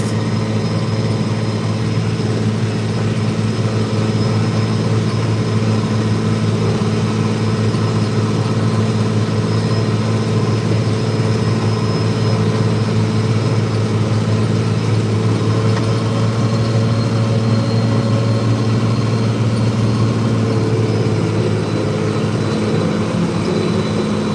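A 3688 tractor pulling a 1411 New Holland discbine drones steadily while cutting hay on a September day, a loud continuous engine rumble with mechanical whine that stays even throughout, close to the listener and without talk.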